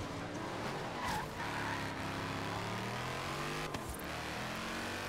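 Race car engine in the Forza Horizon 3 video game revving steadily at high RPM, loud and continuous with rising and falling pitch as it shifts and brakes, a brief tire squeal audible.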